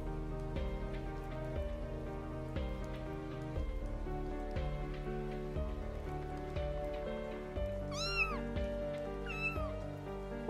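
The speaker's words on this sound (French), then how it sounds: "On dirait les cris de ces deux chatons." Two short, high meows from two kittens in a game come close together near the end, over a steady patter of rain and a soft musical background.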